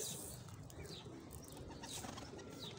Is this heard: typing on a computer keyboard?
no